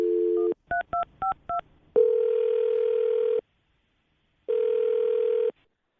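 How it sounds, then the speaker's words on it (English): A steady telephone dial tone, then a quick series of beeping keypad tones as a phone number is dialed, followed by two long ringback tones separated by silence. "I'm going to dial the phone number."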